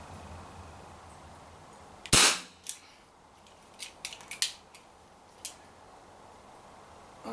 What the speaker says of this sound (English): let's keep shooting until I'm out of CO2 gas